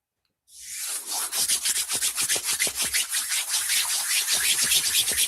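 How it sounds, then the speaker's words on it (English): Hands rubbing briskly together with a dry, sandpaper-like scrape, close to the mic, repeating in quick rhythmic strokes for several seconds after a brief silence. "Dang, my hands sound like sandpaper."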